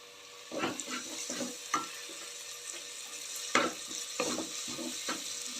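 Curry leaves hit hot oil in a pan and sizzle in a run of sharp crackling bursts, with stirring and frying noise close up and no talking.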